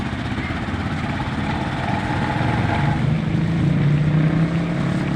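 Engine of a kolong-kolong vehicle riding through rice fields, a loud, steady, buzzing motor drone heard close up, with a slight rise in pitch toward the end and no talk.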